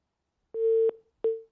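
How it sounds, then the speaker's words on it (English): A telephone line tone sounds after a call drops: a clean, steady electronic beep followed by a short gap and a second beep, quiet and isolated against silence. "it seems that the phone call there has been cut off"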